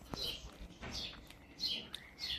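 Small birds chirp in short, separate bursts outdoors while waiting to be fed at a morning and afternoon feeding spot, with quiet gaps between the calls.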